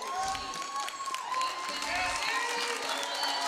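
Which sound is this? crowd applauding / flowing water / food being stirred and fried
crowd applauding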